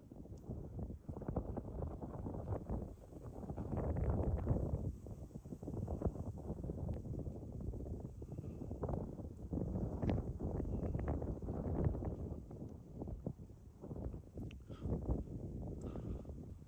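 Wind gusts across an outdoor microphone in cool weather, a continuous low rumbling buffet that rises and falls unevenly, fairly faint, with no talking.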